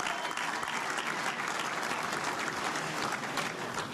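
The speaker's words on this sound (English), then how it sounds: "Let's give them a big round of applause." A full round of applause from an election night crowd cheering on the candidates, with dense, even clapping from many people heard at a moderate distance throughout.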